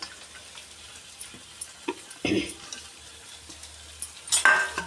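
Sprouted moth beans dry-roasting in a pot without oil, quiet scraping and light rattling as they are stirred, with a few louder clinks and scrapes from the utensil against the pot.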